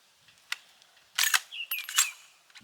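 The bolt of a suppressed Bear Creek Arsenal AR 350 Legend bolt-action rifle is worked by hand, giving a few sharp metallic clicks and a quick scraping slide, up close in a quiet setting.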